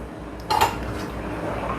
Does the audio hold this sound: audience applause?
no